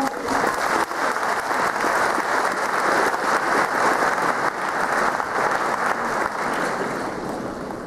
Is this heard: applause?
yes